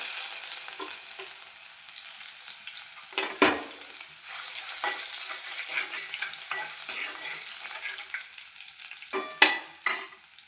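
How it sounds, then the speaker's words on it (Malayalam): Chopped ginger sizzles in hot oil with mustard seeds that have already popped, a steady frying hiss broken by a few sharp stirring clatters of a utensil against the pan. "കടുക് പൊട്ടി വന്ന് അതിനകത്തേക്ക് നമുക്ക് അരിഞ്ഞ് വെച്ച ഇഞ്ചി ഇട്ട് കൊടുക്കാം."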